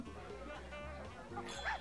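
Dogs bark in the Windows 3.1 point-and-click game The Pink Panther: Passport to Peril, with a couple of short yaps near the end over steady background game music and ambience.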